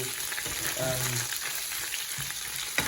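Beef browning with spices in a hot pan, a steady close sizzle and crackle of frying, with a brief voice murmuring underneath.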